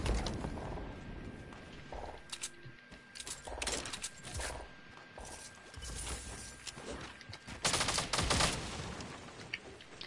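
Heavy shotgun gunfire in Fortnite, a series of loud blasts and rapid shots mixed with in-game clatter, clustered in bursts with a dense crash of fire near the end.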